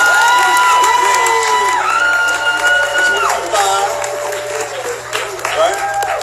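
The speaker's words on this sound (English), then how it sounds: "DL Woods, let's give him a round of applause." A crowd at a motivational talk applauds, cheers and whoops loudly as a man is introduced, with shouting voices over the continuous clapping.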